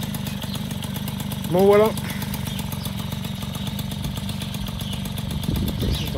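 MBK 51 Magnum moped engine running steadily, revving briefly with a rising whine before settling back to a constant drone, with someone talking over it.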